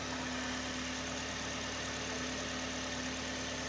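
A junkyard 2.4-liter four-cylinder, swapped into a car, runs at a steady idle with a constant low hum and engine vibration, close and continuous with no talk.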